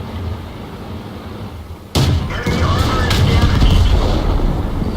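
Tank cannon fired in World of Tanks, T71 light tank match: a single sudden loud boom cuts in after a quieter engine rumble, then a dense rumbling tail of battle noise, with a player talking over it.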